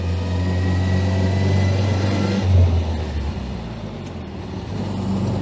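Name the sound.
vintage 1925 Austin Seven car driving and changing gear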